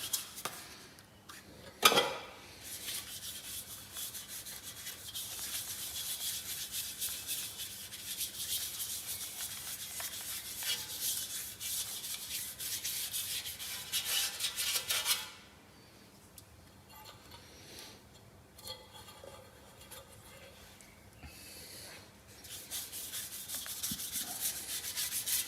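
A hand rubs in circles during restoration of a fishing and camping car trailer, making a steady, close, scratchy friction that pauses briefly mid-way and then resumes.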